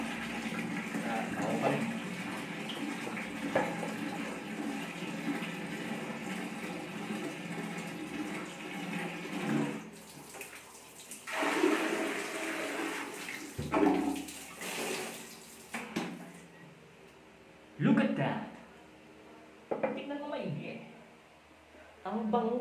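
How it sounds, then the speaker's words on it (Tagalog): Water is poured over a toilet during bathroom cleaning, splashing and gushing in several bursts with quiet gaps between them, while a person talks nearby. "Bubuhusan ulit natin siya ng tubig."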